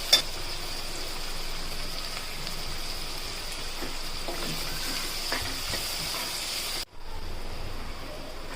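Onions sauté in a pan for a dry fish curry with a steady, rain-like crackling sizzle close by, briefly cutting out near the end before the sizzle resumes.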